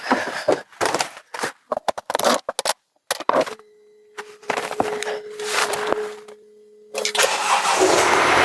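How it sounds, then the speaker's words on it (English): A 2014 Mercedes Sprinter van, just repaired with new shock absorbers and exhaust pipe, is cranked repeatedly in short bursts, then catches and settles into a steady idle before revving up louder near the end, with no talk. "the moment of truth, the first ignition after repairs"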